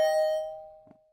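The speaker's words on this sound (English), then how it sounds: "I rang her doorbell," A doorbell rings at an apartment door in the Last Defense Academy video game. A single clear electronic chime strikes, then rings out and fades over about a second.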